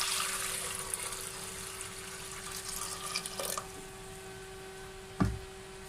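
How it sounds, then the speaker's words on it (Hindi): Water runs and splashes into a cooking pot for a chicken shami kabab, a broadband hiss that fades and then ends with a short thud near the close. "इससे पहले पानी डालेंगे बर्तन"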